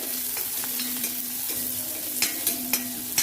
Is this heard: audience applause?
no